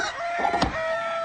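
A rooster crows once in a short, loud call that cuts through a steady hum of background noise.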